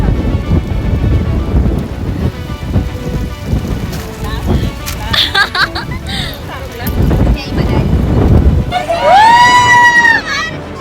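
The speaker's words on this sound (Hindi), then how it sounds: "शुरू हो गया फुल डाउनपोर" A heavy monsoon downpour roars steadily and loudly on a boat trip, with rain pounding surfaces close by and a high whining tone rising near the end.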